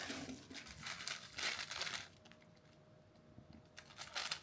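Paper or plastic wrapping is crinkled and torn open around an item from a fan-mail parcel, with rustling bursts, a pause, and more crinkling near the mic.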